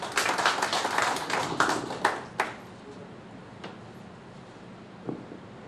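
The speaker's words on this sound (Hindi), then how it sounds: "एक बार तालियों से उनका अभिनंदन।" Scattered clapping from an audience welcoming a poet at a Hindi kavi sammelan, a few close, uneven claps over the first two seconds that quickly thin to isolated taps and fade into quiet.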